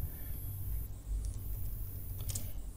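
Quiet, rapid keystrokes on a computer keyboard as code is typed into a text editor, a soft continuous patter of clicks with short pauses.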